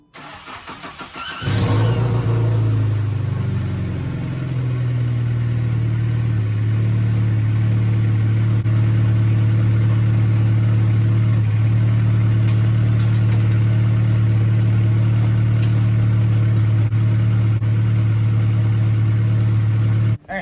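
A car engine cranks and catches, then settles into a loud, steady idle close by, with small rises in revs over about twenty seconds and no talking.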